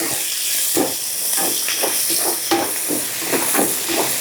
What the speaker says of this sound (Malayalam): ഇനി നന്നായിട്ടൊന്ന് വഴറ്റി കൊടുക്കാം.